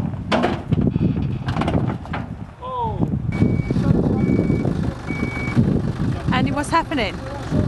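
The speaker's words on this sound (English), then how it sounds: "The second tow truck has arrived" A tow truck in a Turkish yard sounds its reversing beeps, a steady electronic tone that repeats for a couple of seconds amid engine rumble, clanks and people talking nearby.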